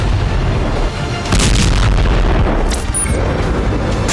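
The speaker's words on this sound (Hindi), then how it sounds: "वीडियो में एक के बाद एक भीषण बम धमाके" Heavy bomb blasts strike near Al-Shifa hospital in Gaza during an attack at night, deep booming rumbles rolling one after another through loud, continuous background noise.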